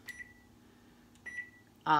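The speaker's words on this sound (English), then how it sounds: "And I'm going to set the timer for 30 minutes." A kitchen timer being set for a 30-minute proof of low-carb cinnamon rolls gives a few short electronic beeps in a quiet room, with a louder tone burst at the end.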